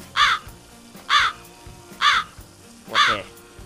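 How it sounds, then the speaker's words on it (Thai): Four loud, harsh caws from a nearby crow, evenly spaced about a second apart, each a short raspy burst over quiet background. "อีกามาเฝ้ารอกินแล้วนะครับ"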